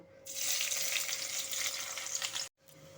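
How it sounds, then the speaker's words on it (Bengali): Sliced onions for beresta dropped into hot mustard oil, breaking into a loud, bright sizzle that holds steady for about two seconds before cutting off abruptly, then returning faintly. "এখন আমি প্রথমে বেরেস্তাটা ভেজে নেব"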